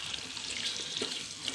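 Prawns simmer in masala in a pan for biryani, giving a steady close hiss of frying and bubbling with faint stirring movements throughout, with no talking.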